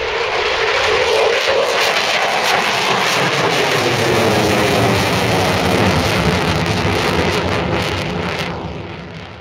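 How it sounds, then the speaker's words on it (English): A Eurofighter Typhoon jet takes off at an air show, a loud sustained roar of jet engine thrust filling the air, holding steady before tapering off toward the end. "taken off to fly with them, the Eurofighter Typhoon"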